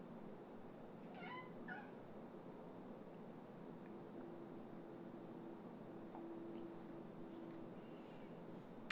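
A house cat gives two brief, faint meows early on against a steady hiss of quiet room noise, then stays silent.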